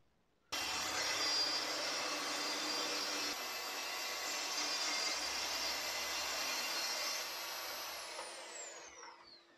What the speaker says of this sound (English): For the backing board, we're using the track saw to cut it